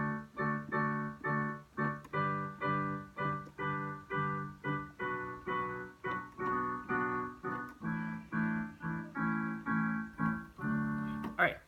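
The hymn I Am Free played with triad inversions on a keyboard, an even rhythm of repeated block chords that rise and fall, moderately quiet and alone.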